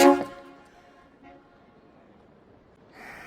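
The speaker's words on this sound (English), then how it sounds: "That's the 3rd time that they've honked at me." A loud, brief yacht horn blast at the start quickly fades, leaving faint background noise, with a softer distant tone later.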